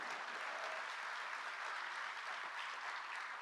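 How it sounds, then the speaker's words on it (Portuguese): Steady, dense clapping from a crowd honours Minister Margareth Menezes at a Brazilian government public security event, heard from a distance, even and unbroken throughout. "Uma salva de palmas para a nossa ministra Margarete Menezes."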